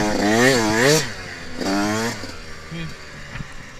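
A new 2021 Yamaha YZ125X two-stroke dirt bike engine lugging along in a low gear during a break-in ride, with two rising-and-falling rev swells followed by a steadier, quieter putter.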